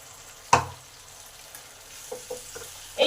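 Water poured into a tomato masala frying in oil gives one sharp, brief sizzle burst, then fades to quiet bubbling with a few small spits, and no one talks.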